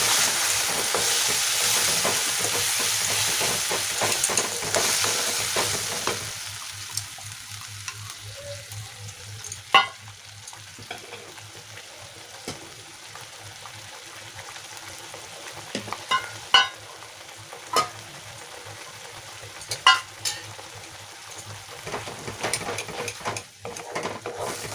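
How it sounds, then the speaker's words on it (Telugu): Okra curry with tomato sizzles in a pan while being stirred, a steady soft frying hiss broken by occasional scraping clicks of the spoon against the pan. "ఇవి బాగా ఫ్రై కావాలా పేస్ట్"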